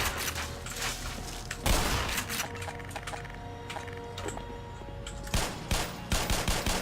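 Pistol shots in the Black Mesa game: several sharp gunshots, a loud one early, then a quicker burst of shots toward the end, over steady in-game background noise.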